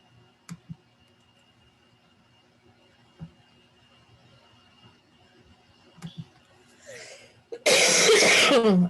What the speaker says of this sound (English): I have this cough that will not quit